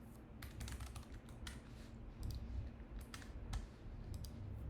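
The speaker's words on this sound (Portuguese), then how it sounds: "serve para você digitar um e-mail" Keys clacking on a computer keyboard as an email address is typed into an HTML form field, a steady run of close, crisp taps with brief pauses between bursts.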